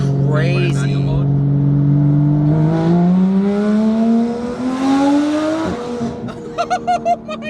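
Porsche GT3 Cup race car with PDK gearbox, its engine and exhaust climbing steadily in pitch through a long rev under acceleration, loud and close, followed by sharp exhaust pops, with people talking over it.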